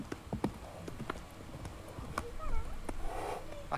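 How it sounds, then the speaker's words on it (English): Horses walk in the dark, their hooves giving faint, irregular clip-clops amid low background noise, with a few brief squeaky animal calls mixed in. "they come across some horses."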